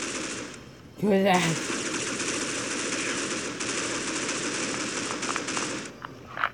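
Rapid automatic AK rifle fire in the Critical Ops shooter game, a loud continuous burst running for several seconds, with a player shouting briefly near the start.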